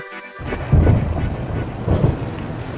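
Heavy rain pours steadily outdoors in the Yorkshire Dales while deep thunder rumbles loudly and close, swelling twice over the constant hiss of the downpour.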